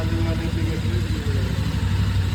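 A Royal Enfield GT 650 motorcycle engine idles after a throttle body cleaning, with a steady, low, even thrum up close, its pulsing rhythm continuous throughout.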